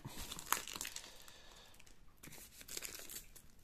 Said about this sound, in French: Alors, on va déballer ça.